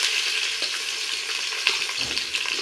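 Onions frying in oil in a sufuria, a steady close sizzle with small crackles and pops throughout, no voices.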